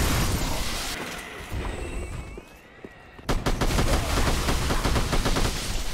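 Sniper rifle and gunfire in a modded Dark Souls video game, loud repeated shots that break into sustained rapid bursts after a brief lull.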